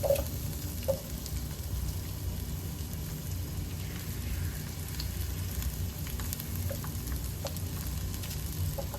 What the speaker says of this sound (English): We're just gonna go in with a little bit of onion.